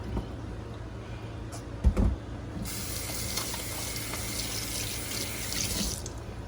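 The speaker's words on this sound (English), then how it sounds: "just wash my hands a little bit, get all of this off" Hands are rinsed under a running kitchen tap. A steady stream of water starts partway through and flows continuously for several seconds, close by, after a few soft knocks and handling sounds.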